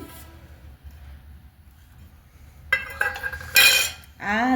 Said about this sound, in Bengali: এবার আমি টিফিন বক্সের ঢাকনাটা খুলছি